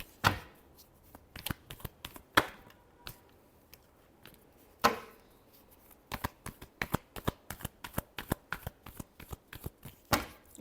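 Tarot cards are shuffled by hand in repeated crisp riffling bursts, sharp slaps and rapid flicks spaced irregularly, close and clear with no talk over them.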